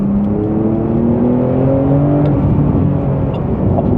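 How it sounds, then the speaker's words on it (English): A Porsche 911 Turbo accelerates hard with a loud, continuous engine roar whose pitch climbs steadily through the revs, heard from close up and without talk. "It just hooks up and it just goes down the road, and it accelerates at such a rate."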